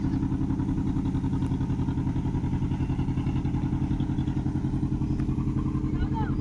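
A motor boat chugs away along a river in the Sundarbans after unloading goods, with a steady rhythmic low engine putter running throughout while a person talks over it.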